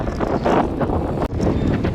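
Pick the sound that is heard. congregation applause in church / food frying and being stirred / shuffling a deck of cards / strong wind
strong wind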